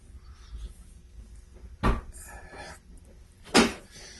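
The door of a 2015 Ford F250 truck swings open with two sharp, close clunks about two seconds apart, over a faint, steady background hum.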